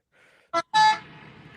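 A truck horn gives two short honks against a quiet background, a clipped blast followed by a slightly longer, louder one.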